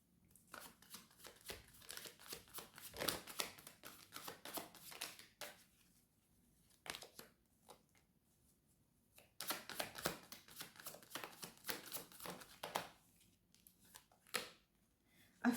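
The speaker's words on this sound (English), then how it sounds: "Let's get some more cards." Tarot cards are shuffled by hand in rapid crisp riffling bursts, close and fairly quiet, with pauses between rounds of shuffling.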